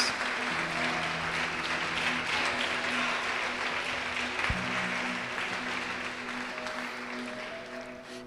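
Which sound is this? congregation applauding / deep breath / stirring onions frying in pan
congregation applauding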